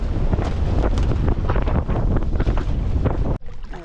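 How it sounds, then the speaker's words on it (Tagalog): Strong wind roars and buffets the microphone continuously, loud and gusty, with a brief dip near the end before it picks up again, on an overcast day. "Ang lakas ng hangin at medyo makuliplim"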